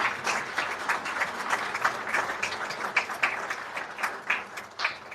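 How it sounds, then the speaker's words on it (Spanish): An audience at a panel on the Dominicans' arrival in Mexico applauds a speaker, a dense, steady patter of many hands clapping for about five seconds, with a few sharper individual claps standing out. "Les pido un fuerte aplauso"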